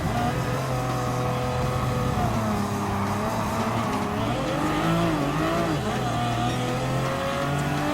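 Race car engines, including a Porsche and a LaFerrari, drone and rev continuously in Gran Turismo Sport, with shifting pitch as the cars accelerate and pass, loud and steady throughout.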